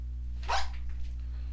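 A dog right behind someone gives a single short, faint bark over a steady electrical hum.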